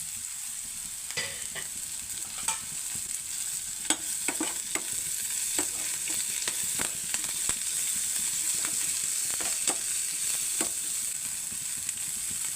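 Bitter gourd stir-fry with green chilies sizzles steadily in a pan, a continuous bright frying hiss broken by repeated sharp clicks and scrapes of stirring, close and fairly loud with no voices.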